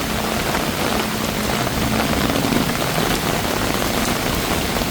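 Heavy rain pours onto a street along Sukhumvit in Bangkok, a loud, continuous broadband roar of drops hitting pavement with no voices.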